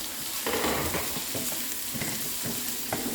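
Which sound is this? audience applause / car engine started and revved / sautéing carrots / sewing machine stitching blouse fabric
sautéing carrots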